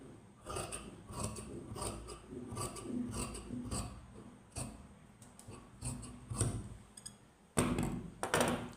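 Scissors cut through folded fabric during a home tailoring lesson, with a run of crisp, rhythmic snips and rasps spread across the stretch, close up and moderately quiet, without talk.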